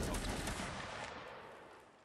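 Massed musket volley in Mount & Blade: Napoleonic Wars: a quiet, distant roll of overlapping shots that crackles briefly, then fades into a lingering rumble.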